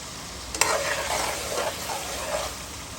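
Potatoes added to a pan of rui fish curry with taro, giving a soft, steady frying sizzle after a sharp clink, close and without talk.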